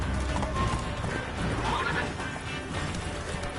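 Roach, a horse in The Witcher 3, gallops with steady clip-clop hoofbeats close by, a brief whinny rising over the rhythm, with game ambience underneath.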